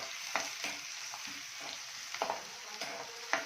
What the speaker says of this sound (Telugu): ఆయిల్ వేడైంది కాబట్టి ఇప్పుడు మనం ఫస్ట్ ఆనియన్ చాప్ చేసుకున్న ఆనియన్స్ ఇంకా గ్రీన్ చిల్లీ వేసుకుంటాము